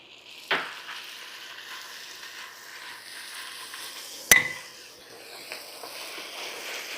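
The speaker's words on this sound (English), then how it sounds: "At this point, I like to add my garlic. In this case, I'm adding 3 cloves of garlic." Three cloves of garlic fry in a hot pan with a steady, soft sizzle, close by, broken by a couple of sharp clatters from the pan or a utensil.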